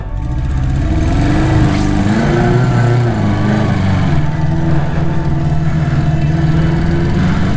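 A 1982 Honda CB650 Nighthawk motorcycle engine pulling away, a loud, steady buzzing drone close up that rises in pitch as the bike accelerates and holds for several seconds with no talking.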